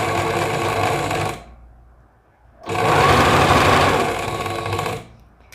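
Sewing machine stitching the side seam of a dress, two loud, fast rattling runs separated by a quiet pause, close up.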